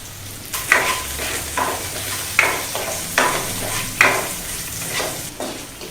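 Onions with a pinch of salt frying in a pan for masala dosa filling, a steady sizzle broken by rhythmic scraping strokes of a spoon about every second, close and clear with no talk.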